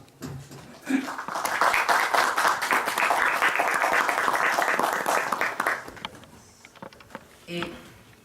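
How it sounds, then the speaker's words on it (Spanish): A warm round of applause at a talk on foreign investment and technology transfer swells for several seconds and then fades out, followed by a voice and faint room noise. "le pediría por favor un caluroso aplauso"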